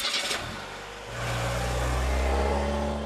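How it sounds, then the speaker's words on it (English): A bus engine, a mid-range motor that starts with a brief burst and then settles into a steady, loud low hum and revs slightly upward, heard alone and close without any voices. "Bus."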